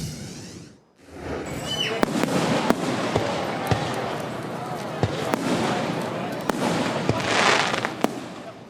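Town Fourth of July fireworks crackle and pop in a steady stream of sharp bangs and fizzing crackles, with crowd noise mixed underneath after a brief hush at the start.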